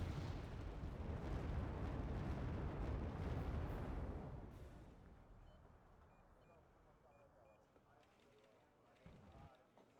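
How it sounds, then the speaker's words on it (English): Artillery barrage in the video game Wargame Red Dragon, a rumbling cluster of heavy explosions for about four seconds that then fades into quieter distant thuds and faint game noise. "He just needs to have that constant artillery barrage really on the area."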